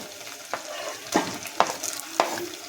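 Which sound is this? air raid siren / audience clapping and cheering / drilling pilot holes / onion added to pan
onion added to pan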